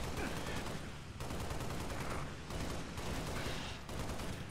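Warthog-mounted machine gun firing in Halo Reach, loud sustained bursts of rapid automatic fire broken by brief pauses, with faint voices underneath.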